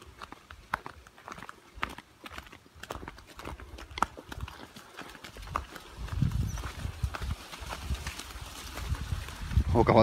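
Horse hooves clip-clop at a walking pace on a rural smallholding road, a steady close rhythm of knocks under occasional voices, with rustling and a louder scrape near the end.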